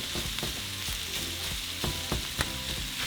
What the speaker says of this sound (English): now with the spoon, we're just going to break our potatoes down a little bit